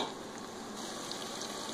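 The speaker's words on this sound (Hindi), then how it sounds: "प्याज को हम गोल्डन ब्राउन होने तक फ्राई करेंगे।" Onions frying in hot oil with cumin seeds and whole red chillies, a steady low sizzle and gentle crackle throughout, quiet and close, with no speech.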